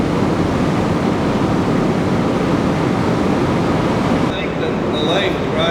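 Water rushes violently through the outlet at Greers Ferry Dam, a hydroelectric dam, making a loud, unbroken roar close by that runs almost alone throughout.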